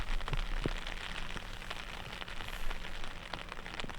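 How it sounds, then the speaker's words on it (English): Heavy rain pours steadily across an outdoor disc golf course, a dense close hiss of drops and pattering with scattered louder splats and a low rumble of wind. "Some of the heaviest rain that we saw all day was at the start of this round."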